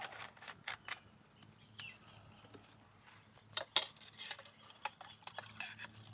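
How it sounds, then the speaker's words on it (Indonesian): Adhesive mixture for coating cocoa pods being stirred in a container, producing faint, irregular clinks, ticks and scraping taps, with a few brighter knocks scattered among quieter stretches. "Nah kita aduk ya teman-teman sampai merata."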